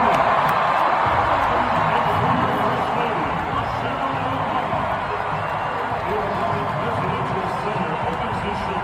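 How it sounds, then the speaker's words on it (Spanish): A large crowd gives the Obamas a standing ovation, roaring and cheering in a dense, unbroken wash of noise that holds steady from start to finish. "los Obama sí reciben una ovación de pie"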